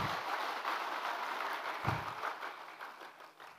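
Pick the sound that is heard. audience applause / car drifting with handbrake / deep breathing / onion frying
audience applause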